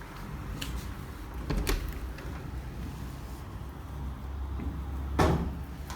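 A bathroom door in an apartment in Nairobi, Kenya opens with a few soft creaks and knocks over a constant roomy rumble of handheld wind-like background noise, with no talking.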